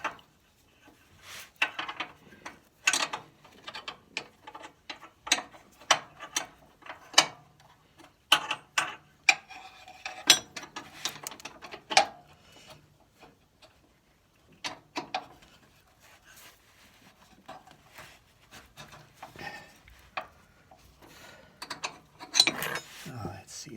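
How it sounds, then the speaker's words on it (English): A ratcheting box-end wrench turns a bolt while a Toro 265-6 is dismantled, giving rapid quick clicks in irregular bursts, close and fairly faint, with pauses between runs. "I got those box end wrenches with a quick click thing"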